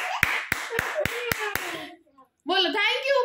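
Hands clapping at home during a baby's unboxing session: six sharp, evenly spaced claps about a quarter second apart, close and loud, mixed with voices and followed by a short spoken phrase.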